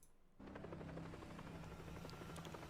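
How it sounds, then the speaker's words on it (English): A helicopter in the Sonic x Shadow Generations video game cuts in suddenly with a steady, close rotor thrum and buzzing whine that holds to the end. "Helicopter."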